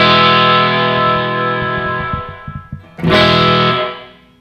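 An electric guitar runs through an Empress reverb pedal with the decay being adjusted: a chord rings out with a long reverb tail, a few quick plucked notes follow, then a second chord swells and fades away.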